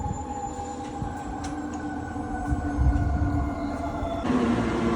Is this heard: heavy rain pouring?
no